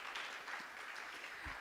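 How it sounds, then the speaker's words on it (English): Brief, faint round of audience applause at a guide dog graduation, a soft scattered patter of clapping lasting under two seconds. "round of applause"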